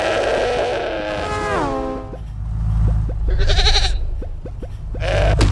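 A goat bleats in the Crossy Road mobile game, a wavering cry with a falling pitch, followed by short electronic game sound effects and clicks over a steady low background.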